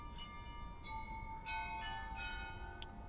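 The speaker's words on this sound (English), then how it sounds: "You guys hear the bells there, that chime." Church bells chiming in Kyiv, sustained ringing tones sounding one after another, distant and faint over a steady background rumble.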